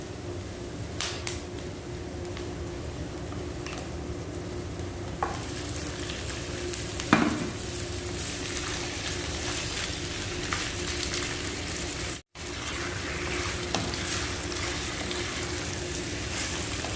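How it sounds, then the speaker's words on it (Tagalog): Garlic and onion sautéing in a pan for Chicken Hawaiian, a steady loud sizzle with occasional stirring scrapes and clicks, continuous throughout with no talking. "gisang-gisa na yung ating bawang at saka yung sibuyas natin"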